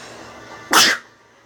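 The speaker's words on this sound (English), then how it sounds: "Sneeze." A single loud sneeze bursts out over a quiet background hum, brief and close, with no talking around it.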